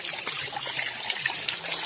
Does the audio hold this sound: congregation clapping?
no